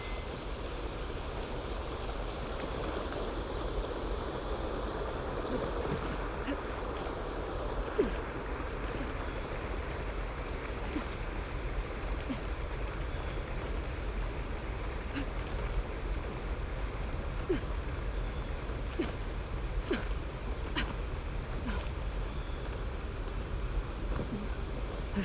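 Waterfall in Horizon Forbidden West gives a steady broadband rushing wash of water, constant and moderately loud for the whole stretch, with occasional faint clicks and no talk.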